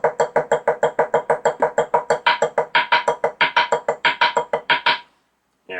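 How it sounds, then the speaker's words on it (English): Drumsticks tap steady rhythms on a Tap-Off practice pad, a fast even run of about two dozen sharp, close strokes whose accents shift halfway through, then stop before one last hit. "you could actually play all of the notes and just use the black spot for a different sound for the particular rhythm that you're trying to learn"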